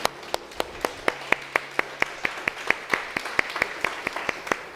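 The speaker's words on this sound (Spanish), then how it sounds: "démosle un fuerte aplauso al Señor." A church congregation claps in a steady, even rhythm, with sharp distinct hand claps in a room setting and a faint hum underneath.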